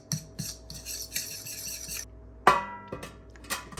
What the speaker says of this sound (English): we'll go ahead and mix it in